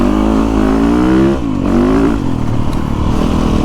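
A Yamaha YZ450FX 450cc dirt bike engine revs up close and loud, its pitch rising and dipping through a couple of throttle swells over a steady rumbling drone.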